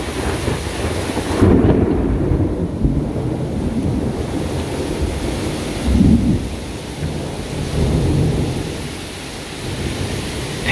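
Rolling thunder from a lightning strike in a severe thunderstorm booms and rumbles in several swells over steady rain and wind, deep and fairly close, with no voices.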